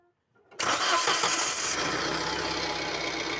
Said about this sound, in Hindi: टर्बो में से आवाज़ लग रही है मेरे को।